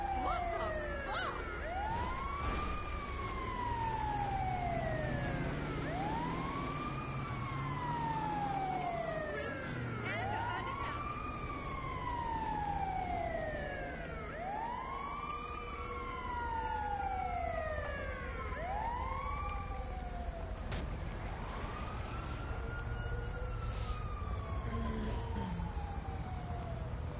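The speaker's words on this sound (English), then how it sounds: "I'm gonna listen to the siren sounds" Police car sirens from the video game GTA 5 wail in repeated rising and falling sweeps, several overlapping at once, sustained and fairly loud over a constant low rumble of game ambience, with no talking.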